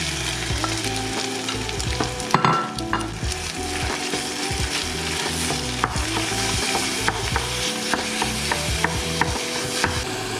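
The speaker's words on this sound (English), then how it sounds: "I'm gonna add the beef." Ground beef and pork fry in a pan for bolognese sauce, giving a continuous close sizzle broken by scraping stirs and clicking utensil sounds throughout, with no voices.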